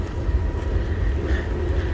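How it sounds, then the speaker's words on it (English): Train rolling past at a railroad crossing near the Appalachian Trail around Dickey Gap, Virginia, a steady low rumble of railcars close by with no talk. "so our luck, trains down here at the tracks, and we'll have to wait till it gets through"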